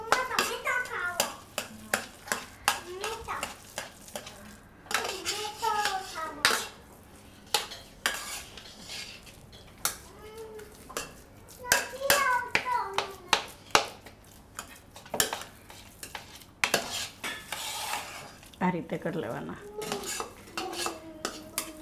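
A metal spoon scrapes and clinks repeatedly against a pot as boiled rice for mango kheer is stirred, in irregular strokes, with a voice speaking briefly.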